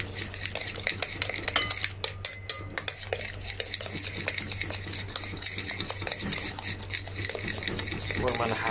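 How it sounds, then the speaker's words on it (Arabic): A chicken mixture with added hot chili is stirred and mixed in a bowl, giving dense, continuous wet squelching and scraping with frequent utensil clicks, close and fairly loud throughout. "واخا صافي نخلط بحال هكا"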